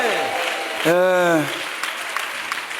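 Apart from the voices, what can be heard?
congregation applauding in church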